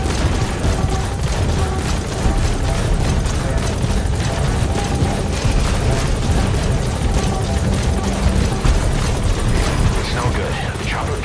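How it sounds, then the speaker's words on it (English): Support helicopter arriving at the landing zone in the video game Metal Gear Solid V, its loud throbbing rotor wash blending with rumbling booms and other dense game sounds throughout. "Support helicopter has arrived."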